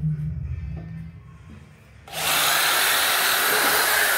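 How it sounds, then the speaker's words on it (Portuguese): A power drill bores a hole through a clamped workpiece while building a homemade table saw from an inverted Makita marble saw, starting abruptly after a quiet moment and running loud and steady to the end. "Furei um lado, já furei o outro, pessoal."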